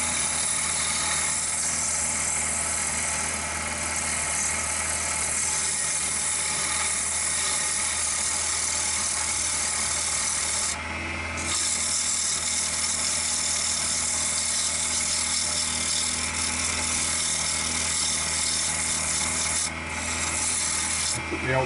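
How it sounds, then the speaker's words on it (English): A dust extractor runs steadily throughout while an ash bowl is sanded on a woodturning lathe, a constant loud broadband whoosh with a gritty rubbing texture and two brief dips in level. "The old dust extractor on again, so sorry for the noise."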